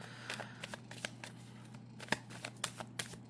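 Journey oracle cards are shuffled and handled during a tarot reading, a close, quiet series of quick flicks, slides and taps at an irregular pace, with no speech.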